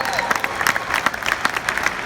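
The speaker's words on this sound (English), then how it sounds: "clap for yourselves" Scattered audience clapping rises at a company gathering, with individual claps standing out and light cheering mixed in at moderate volume.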